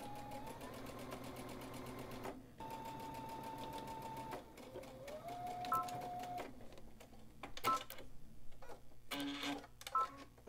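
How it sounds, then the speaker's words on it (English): A sewing machine edge stitches a dress sewn from a Simplicity pattern, running in steady bursts of motor hum and rapid needle clatter with short pauses and small clicks between runs, close and clear with no talk. "And you're going to edge stitch."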